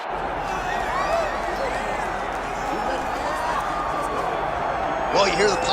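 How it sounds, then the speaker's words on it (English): Arena crowd in the UFC 5 fighting game swelling with a sustained roar and cheers as Nate Diaz makes his walk, a dense continuous wall of noise with a louder burst near the end. "Well, you hear the pop from the crowd, DC, as Nate Diaz gets set to make this walk"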